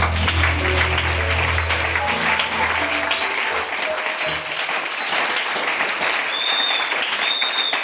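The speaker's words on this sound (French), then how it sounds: "Est-ce que quelqu'un peut donner des mains d'acclamation au Seigneur?" A church congregation applauds during worship and praise, with dense, steady clapping that fills the whole stretch and faint tonal notes sounding beneath it.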